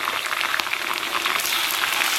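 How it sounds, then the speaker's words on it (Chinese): Scallion, ginger, garlic and dried chili frying in hot oil over low heat in a Chinese home kitchen, giving a steady, dense sizzle with scattered crackles and no speech. "咱们把葱姜蒜干辣椒给它下里边， 小火给它爆香"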